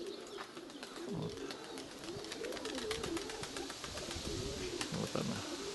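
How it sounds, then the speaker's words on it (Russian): Domestic Nikolaev pigeons coo in low, rolling phrases again and again, close by and fairly loud, with faint ticking and chirping in the background. "Вот она, кругленькая, моя маленькая голубя."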